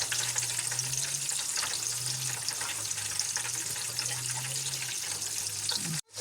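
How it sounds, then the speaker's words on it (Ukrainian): Dough dumplings fry in a pan with a loud, continuous crackling sizzle, steady and close throughout, under a faint low hum, ending in a sudden cut. "Ось так вони смажаться."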